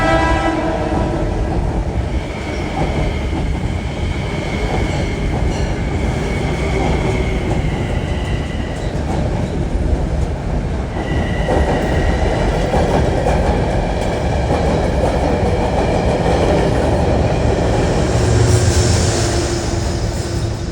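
A loud Metro-North commuter train rumbles steadily past close by at a station in New York, with continuous rail noise and clatter and a brief horn-like tone partway through.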